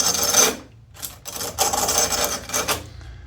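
A small hand-made carving knife blade is worked back and forth against an abrasive by hand, making about six close, raspy scraping strokes of uneven length with short gaps between them.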